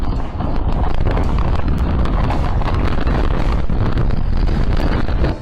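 Loud, constant roaring wind of a hailstorm with gusts up to 100 km/h buffeting the microphone, with a dense rushing clatter of hail underneath, sustained without break.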